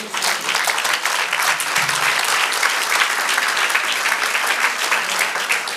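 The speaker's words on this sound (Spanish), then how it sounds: "den un aplauso al Señor" Church congregation applauding during a sermon, a loud, sustained wash of dense clapping from a crowd that stays even throughout with no talking.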